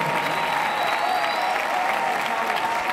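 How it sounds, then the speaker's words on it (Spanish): Loud, steady applause from a concert audience at a Christian music festival, dense clapping sustained throughout with no break. "Fuertes aplausos"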